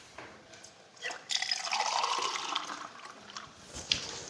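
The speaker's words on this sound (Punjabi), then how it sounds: "ਦੇ ਵਿੱਚ ਪਾਣੀ ਪਾ ਦਿੰਨੀ ਆ" Water pours steadily into a pot of vegetable curry for a few seconds, a splashing, trickling rush with faint clinks near the start and end.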